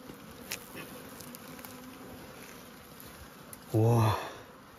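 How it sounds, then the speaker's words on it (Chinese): Bees buzzing around wild honeycomb in the mountains: a faint, steady insect hum runs throughout, then a loud, close buzz swells briefly near the end before fading. "这个蜂还是蛮多的，这个糖也很多。"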